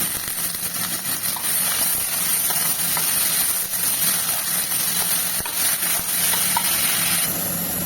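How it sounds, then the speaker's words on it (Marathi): Chopped onion sautéing in a hot pan with chillies for chicken bhuna masala, a steady loud sizzle and hiss that carries on without a break, with no voices. "कांदा टाकलेला आहे मी कांदा देखील एक मिनटं परतवून घ्यायचा आहे पूर्ण"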